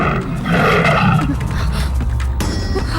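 A tiger roars in a Tamil film scene with a loud, rough, sustained growl through most of the clip, followed by a brief higher sound near the end.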